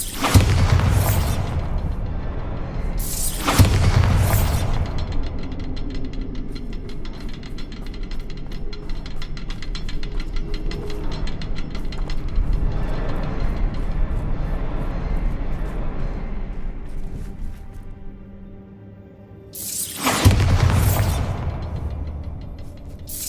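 Explosions from the Bombarda spell in Hogwarts Legacy boom loudly in three bursts, two close together at the start and one near the end, over a steady low rumbling game ambience.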